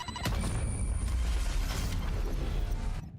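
Round-ending spike explosion in a Valorant esports match: a sharp onset followed by a loud, sustained roaring rumble that holds for about three seconds before cutting off.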